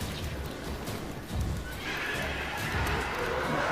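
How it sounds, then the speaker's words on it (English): A horse in The Witcher 3 video game neighs and whinnies over game sounds, with hoof clip-clop mixed in, fairly close and steady throughout. "Come on, Roach, let's go"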